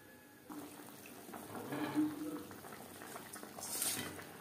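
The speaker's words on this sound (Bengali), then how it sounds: "4-5 মিনিট গ্রেভি বেশ ভালো করে ফুটিয়ে নেব।" Tangra fish curry gravy simmers in a pan, a faint, steady bubbling that swells in the middle and again near the end.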